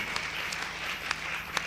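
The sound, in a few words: audience applause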